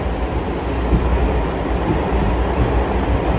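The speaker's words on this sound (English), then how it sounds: "train is mad loud," A loud train rolls past up close, a dense steady roar of rail noise with low rumble and faint clatter filling the whole stretch, no voices over it.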